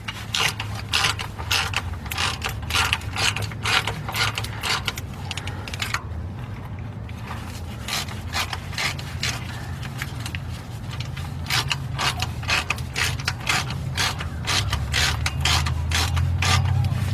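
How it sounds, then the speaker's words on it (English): Rapid, steady ratchet clicking while starter bolts are tightened on a 2005 Chevy Express G2500 van, close and continuous with a brief pause midway, over a low background hum. "when you tighten these up, you want to tighten them up"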